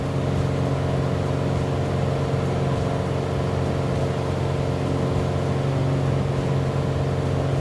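An aircraft engine drones steadily in flight in Microsoft Flight Simulator 2024, a constant, fairly loud hum with steady tonal layers and no change in level, heard alone without voices.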